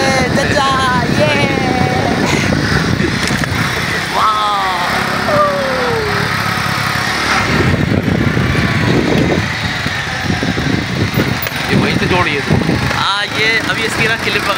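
Motorcycle engine droning steadily while riding on a road, a continuous rumble mixed with wind and road noise, heard under people talking throughout.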